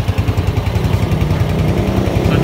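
A Honda CG125 motorcycle engine idles after a piston ring repair, a steady, even low chugging thump with a loud, unchanging beat that holds throughout without any talk over it.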